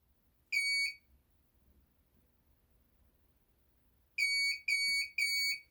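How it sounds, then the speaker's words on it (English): Four high electronic beeps from the sliding door control of a 2020 Ford Transit van: one alone, then a pause, then three in quick succession. The background is otherwise quiet. "Okay, there's 3 beep."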